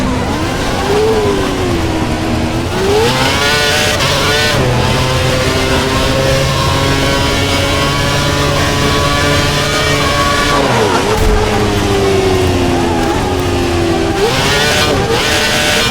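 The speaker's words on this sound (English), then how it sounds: "this is the car in P11 overtaking us for P10" Formula 1 cars howl continuously in a 2011 Canadian Grand Prix race in an F1 video game, a high engine whine rising and falling through gear changes as one car overtakes a damaged car running with no wing and a puncture.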